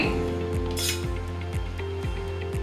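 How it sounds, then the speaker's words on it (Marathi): Kande pohe scooped from a pan onto a plate gives repeated light scraping and clinking of a utensil against metal, with a brief soft rustle midway. "आता हे मी प्लेटमध्ये काढून घेते"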